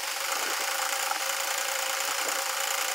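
A sewing machine runs steadily while stitching a folded fabric strip for a small summer dress, giving a continuous bright whirring hum with faint rhythmic ticks from the needle, close and without pauses.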